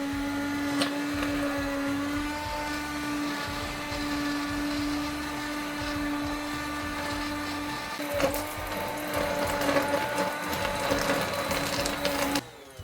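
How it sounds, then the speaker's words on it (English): An immersion blender whirs steadily in a pot of ash broth, a high motor whine running continuously, turning gritty and choppy near the end before it suddenly shuts off. "I'm gonna try to blend it with the immersion blender."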